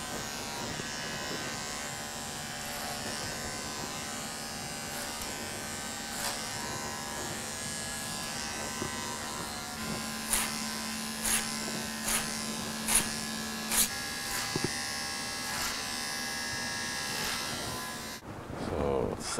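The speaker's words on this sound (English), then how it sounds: "And you use this clipper over comb technique." Electric hair clippers buzz steadily at a barbershop during a low fade, working clipper over comb with a 1.5 blade, a close continuous hum with a run of brief sharp clicks midway.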